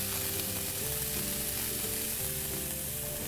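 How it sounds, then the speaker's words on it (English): Steady, close sizzling of pancetta frying in a pan, a continuous crackling hiss with no talking. "Sort of got a nice sizzle there."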